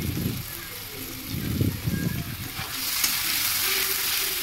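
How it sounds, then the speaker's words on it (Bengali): Masala sautéing with chopped raw tomato and salt for a sea crab dish, a loud, close, continuous sizzle with stirring scrapes and rattles in the first half, then a steadier hiss. "এবার এটাকে ভালো করে কষিয়ে নেব যতক্ষণ না টমেটোটা গলে যাচ্ছে"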